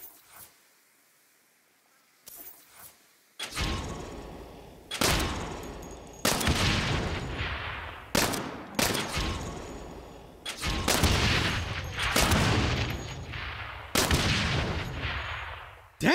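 Gunfire in the Saints Row video game: after a quiet start, a few small clicks lead into repeated loud bursts of shots, each ending in a ringing tail, spaced a second or two apart.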